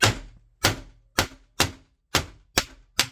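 A short survival kit blade chops repeatedly on a desk, seven sharp, evenly spaced whacks, each one a crisp close impact with a quick decay.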